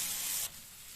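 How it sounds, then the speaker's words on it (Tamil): Tomatoes frying in a pan for paneer capsicum fry give a steady, close sizzling hiss that is loud for the first half and then settles into a quieter, continuous sizzle. "தக்காளி சேர்த்து நல்லா வதங்கணும்."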